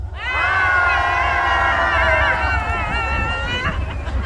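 A crowd roars a loud sustained cheer at an outdoor daily concert in Boseong, many shouting voices blending into one long, strong, tonal yell that holds for several seconds before trailing off.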